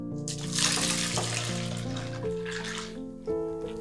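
Hot milk and beaten egg custard pours back into a pot with a steady liquid pouring and splashing sound, continuous and close over a sustained musical background.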